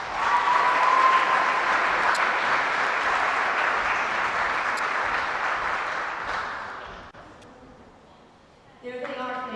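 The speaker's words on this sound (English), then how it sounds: "How about a huge round of applause for our graduating seniors playing in the final match." A large crowd at a girls' volleyball match claps in sustained applause that gradually fades out, followed by a brief burst of other sound at the end.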